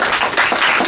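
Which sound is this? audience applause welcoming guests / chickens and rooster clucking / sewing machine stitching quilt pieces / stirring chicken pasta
audience applause welcoming guests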